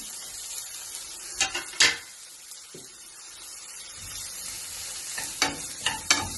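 Onion, garlic and ginger fry in hot oil in a pan, giving a steady close sizzle broken by a few sharp stirring scrapes near the start and again toward the end, with no voices.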